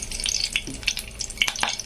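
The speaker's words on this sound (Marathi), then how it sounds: "इथं मी कढई ठेवली त्याच्यामध्ये तेल टाकले आता याच्यामध्ये थोडंसं कढीपत्ता टाकायचा आपल्याला तर इथं कढीपत्ता टाकलाय" Curry leaves dropped into hot oil in a wok crackle and sizzle, a brief close burst of sharp pops over a steady frying hiss, with no talk.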